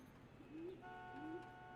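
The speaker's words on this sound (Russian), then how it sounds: "О, голубь где-то." A pigeon coos in the L.A. Noire video game, two short rising coos about half a second apart over a low ambient hum. Steady faint tones come in under the second coo.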